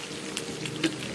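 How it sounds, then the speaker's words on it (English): Water coming to a boil for tea on a camping trip, a soft, steady bubbling and crackling hiss with a few brief louder pops, fairly quiet and close. "just heat water up until it boils like that"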